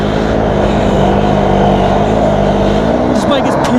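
Motorbike engine roaring at full throttle in second gear on soft sand, a loud continuous drone with steady harmonics that wavers near the end, with a voice briefly heard over it.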